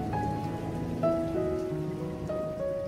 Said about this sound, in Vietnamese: Phố đón tôi bằng một cơn mưa bất chợt.